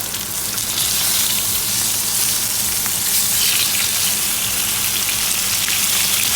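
Lamb chops fry in a pan over medium-high heat, a dense, steady crackling sizzle that stays loud and close throughout, with no voices.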